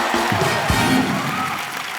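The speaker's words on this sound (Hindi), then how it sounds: "ठोको ताली।" A television comedy show's studio audience applauds and cheers, a broad steady wash of clapping with brief musical or vocal tones layered in.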